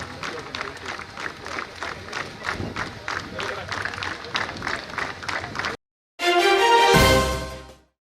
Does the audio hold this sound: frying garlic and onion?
no